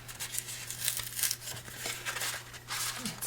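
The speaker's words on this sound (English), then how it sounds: "Let's see if I can pull this apart. It won't matter that I'm ripping the back" Soft tearing and crinkling of paper as a handmade card is pulled apart, a faint close-up series of rips and rustles with no talk.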